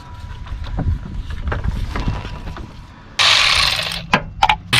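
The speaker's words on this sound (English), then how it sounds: "We're gonna pull this belt all the way off." The drive belt is pulled off a 2011-2015 Chevy Cruze 1.4L turbo engine, giving close clicking and ratcheting of mechanical parts, followed by a loud whirring rush and a few sharp knocks near the end.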